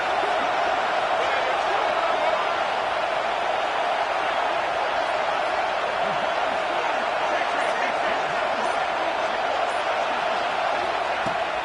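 Stadium crowd roaring steadily in the College Football 26 video game during a fourth-down play involving South Carolina, a dense continuous wall of cheering with no breaks, loud and sustained throughout.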